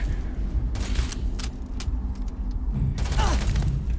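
Grenades burst during a firefight in the video game Starfield, several loud broadband blasts landing in quick clusters over a steady rumbling game mix, the heaviest and longest coming near the end.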